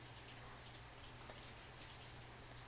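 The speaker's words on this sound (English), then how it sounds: "Yes, Edwin, that is rain in the background." Rain falling in the background indoors, a very faint, steady patter and hiss with a low constant hum beneath it, with no voices.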